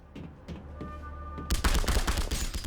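AK rifle gunfire in The Punisher video game, meat packing plant level: after a quieter, humming stretch, a dense, loud burst of rapid automatic shots takes over the second half, with no speech.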